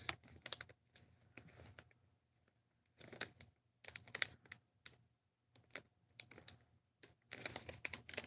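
A crinkly resealable plastic bag is handled in short, sharp bursts of crackling and rustling, with brief silent gaps between them, close and fairly quiet.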